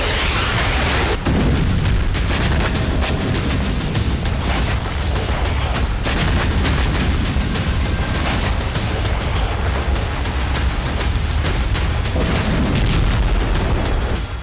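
Missile and drone strikes explode in a dense series of heavy booms and cracks over a constant roar. The blasts are loud and overlap for the whole stretch.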